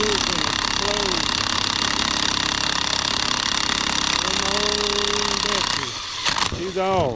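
A jackhammer tool's steady, loud drone throughout, with harsh mechanical rattling, used to remove a power steering pump pulley; it drops away near the end as a voice briefly speaks.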